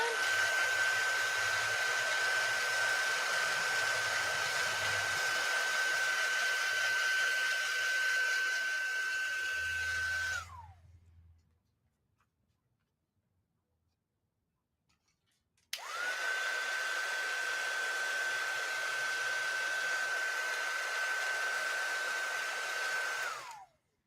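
A hair dryer blows steadily to dry a craft project, a loud continuous whir with a high whine that runs about ten seconds, cuts off for a few seconds of near silence, then starts again at the same strength.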